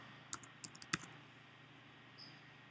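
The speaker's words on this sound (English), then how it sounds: "I'm just going to open my library and type Metzger" A handful of quick keystrokes on a computer keyboard, soft, close clicks in a short burst followed by quiet.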